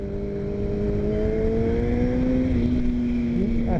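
A small motorcycle rides fast through 15-mile-an-hour curves in Hawaii, its engine droning loud and close with rising and falling pitch under heavy wind rush, and no talking.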